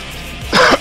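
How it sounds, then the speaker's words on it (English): A single short cough, close and fairly loud, followed by a brief throat-clearing burst over a quiet background hum. "Cough into this intro."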